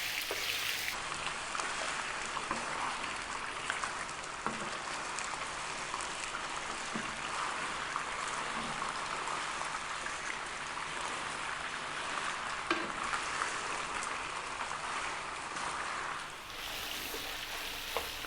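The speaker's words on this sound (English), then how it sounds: "Just want to brown it a little bit" Lamb browning in a pan over medium heat gives a steady, even sizzle throughout, with no voices.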